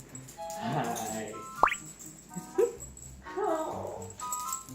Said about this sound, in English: The whining and whimpering you hear is Sam.